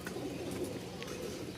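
A pair of Giribaz pigeons, tumbler crosses kept in Rajshahi, coo softly in a brief, faint burst of low murmuring calls.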